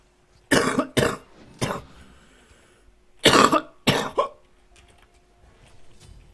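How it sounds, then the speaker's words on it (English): A person coughs and hiccups at once, in two clusters of sharp, close bursts, three quick jolts, a pause, then three more, with quiet between them. "I just coughed and hiccuped at the same time."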